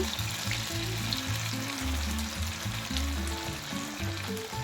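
Fish pieces frying in hot oil for a restaurant-style fish fry make a steady crackling sizzle, with a low uneven rumble underneath throughout.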